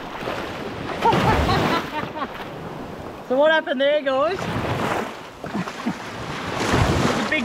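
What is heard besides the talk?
bow wave from a passing big boat hitting a small tinny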